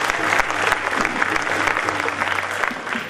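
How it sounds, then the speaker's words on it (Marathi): An audience at a lecture-series event applauds to welcome a speaker, giving dense, steady clapping from many hands throughout, with a voice faintly audible beneath. "सर या आणि त्यांच्यासाठी आपल्याकडून टाळ्या मागतोय"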